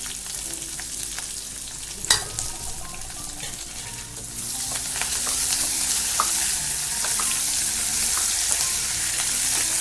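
Small shallots and curry leaves sauté in a pan for a Chettinad-style chicken dish. A soft frying crackle with a sharp clatter near the start swells into a dense, loud sizzle that holds to the end, with no talking.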